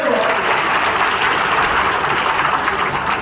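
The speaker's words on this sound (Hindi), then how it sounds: "जोरदार ताली बजाइए" A large crowd at a political rally in Godda applauds loudly and continuously, a dense wash of clapping with faint voices underneath.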